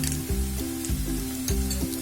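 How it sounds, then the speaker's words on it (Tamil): Ginger garlic paste sizzles and fries in a pan with onions for a mutton gravy, a steady close crackle broken by rhythmic scraping strokes of a stirring spoon. "இதோட பச்சை வாசனை போற வரைக்கும் வதக்கிக்கலாம்"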